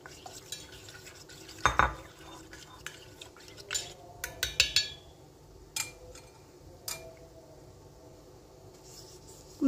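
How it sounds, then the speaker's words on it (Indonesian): A utensil stirs coconut milk in a pot, giving soft scraping swirls with a few sharp clinks and taps against the metal, quiet and close with scattered pauses. "Kemudian saya kasih santan. Kita aduk-aduk."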